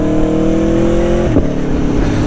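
A loud engine drones steadily at low revs, its pitch dipping briefly partway through before settling again, close and continuous.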